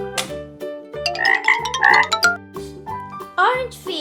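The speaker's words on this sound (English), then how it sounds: "baby frog." Frog croaks repeat in a rapid, uneven rhythm, loud and close, with a brief burst of higher chirping in the middle; a voice may be mixed in.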